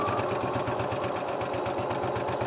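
A sewing machine stitches a parallel line through corset boning into a garment lining, with a steady rapid mechanical chatter running at even pace and close, loud and continuous with no talking.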